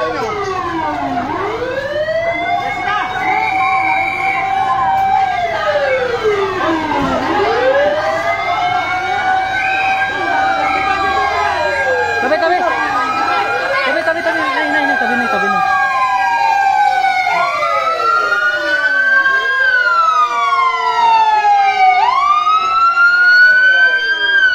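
Fire truck sirens wail during a fire on a street in Pasay City, Philippines: loud, overlapping rising-and-falling siren sweeps from several vehicles continue nonstop, close by.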